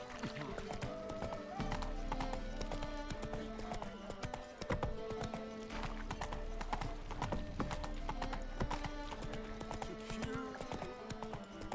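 Steady clip-clop of the horse Roach's hooves in The Witcher 3, a rapid continuous trot with an occasional whinny under game music, fairly faint.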